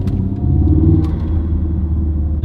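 Ford Focus RS/ST with an aftermarket intake accelerating in second gear, giving a loud, close, deep rumbling engine and intake drone that holds steady throughout the short stretch.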